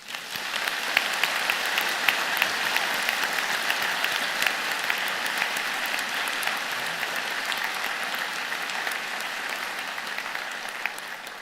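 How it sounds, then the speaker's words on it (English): A large audience at a university convocation claps in sustained, vigorous applause that stays dense and even throughout before thinning slightly at the end, with no speech heard. "I would ask you to join me and the platform party in thanking them with a vigorous round of applause."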